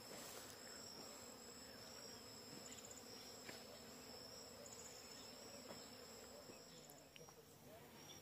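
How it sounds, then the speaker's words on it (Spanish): Hive wasps in a sorghum field drone in a faint continuous buzz, with a thin steady high insect whine layered over soft outdoor background noise and no clear voices. "Miren cómo hay ahí avispas de colmena."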